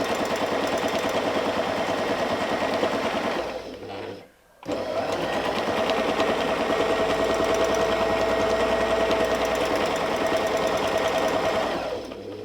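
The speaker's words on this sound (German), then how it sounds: "senken unser Füßchen ab und nähen erneut" Domestic sewing machine with a ruler foot stitching a quilt: a fast, even mechanical whir runs on, stops briefly for a second, then resumes at the same steady pace, close and moderately loud, without talk.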